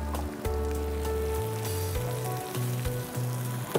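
Chicken tipped into a pan of white sauce pasta sizzles and bubbles steadily, a close, continuous frying hiss with a low hum underneath and a few soft clinks.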